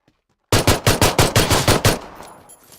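Automatic gunfire in PUBG Battlegrounds: a loud burst of about nine rapid, evenly spaced shots after a moment of silence, ending in a fading echo.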